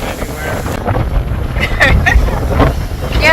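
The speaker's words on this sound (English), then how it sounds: "It's a lot of wind." Strong wind buffets a microphone outdoors on a breezy coast, a steady low roar and rumble that swells and gusts throughout, with faint voices partly buried underneath.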